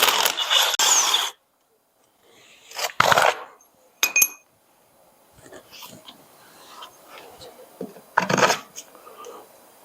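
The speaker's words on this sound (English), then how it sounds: "I gotta get this wheel weight off first" A wheel weight is worked off a John Deere JD400 garden tractor in a few bursts of close metallic clanks, knocks and rattling, separated by quiet pauses.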